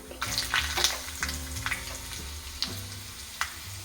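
Chillies sauté in hot oil for an idli chutney tempering, giving a steady close sizzle and crackle with a few sharper pops and stir scrapes throughout.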